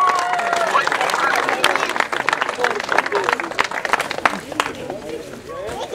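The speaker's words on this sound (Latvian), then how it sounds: "Aplausi!" Crowd applause with scattered clapping at a retro motocross moped awards ceremony in Gulbene, Latvia, loud and busy, mixed with voices and chatter throughout.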